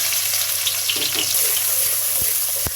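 Onions fry in hot oil with whole spices while duck curry is cooked, making a bright, steady hissing sizzle with a couple of sharp clicks near the end.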